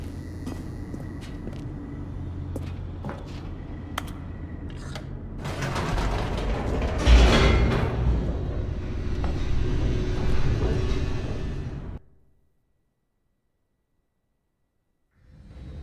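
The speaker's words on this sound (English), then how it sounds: "The elevator raced downward" A descending elevator in The Stanley Parable gives off a continuous mechanical rumble with creaks and rattling, swelling louder midway before cutting off abruptly into silence.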